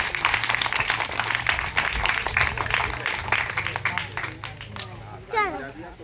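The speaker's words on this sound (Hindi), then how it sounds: "जो बड़े बड़े बच्चे हैं तो ताली बजाइए थे।" Older children at a village school gathering clap in a quick, uneven patter that fades and thins toward the end, while adults keep talking over it.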